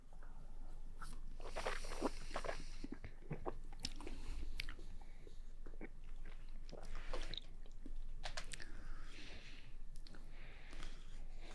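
A sip of bourbon is chewed in the mouth, giving close, quiet wet smacking, sloshing and squishing sounds that repeat irregularly for several seconds.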